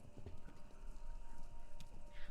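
Horses gallop in a race in the video game Kentucky Route 0, a quiet, fairly distant rumble of clip-clopping hooves under a low background hum, with no talking.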